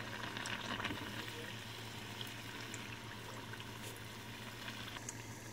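Battered cheese on a stick frying in oil, a steady close crackle and bubbling sizzle that holds at an even level throughout with faint scattered pops.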